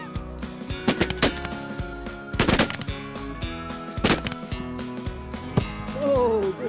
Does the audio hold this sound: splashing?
no